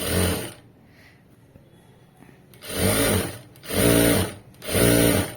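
A sewing machine stitches fabric in three loud, even bursts after a quiet pause. Each run whirs steadily for about a second, and no one talks.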